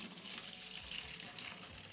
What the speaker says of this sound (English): I'm going to pour my grapes straight in